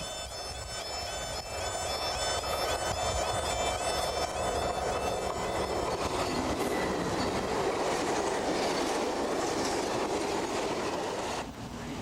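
A British Rail Class 60 diesel locomotive hauling a train past at close range, a loud sustained roar of engine and rolling wagons with rhythmic wheel clatter and faint squeals, building from the start and holding steady to the end.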